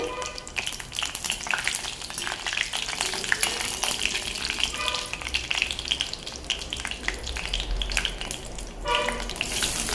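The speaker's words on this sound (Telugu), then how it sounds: "తాలింపు దినుసులు వేగిన తర్వాత" Tempering spices fry in hot oil for a brinjal and green peas curry, making a dense, continuous crackling sizzle that stays close and fairly loud throughout, with no talking.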